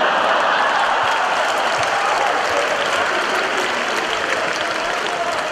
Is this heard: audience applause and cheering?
yes